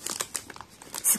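A sticker packet from a Chocobi melon-flavour snack is torn open with quick, close crinkling and rustling of thin plastic, ending in a brief louder rip.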